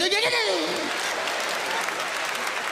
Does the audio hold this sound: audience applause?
yes